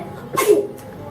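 A single sharp sneeze bursts out close by, followed by a faint trailing breath in an otherwise quiet room.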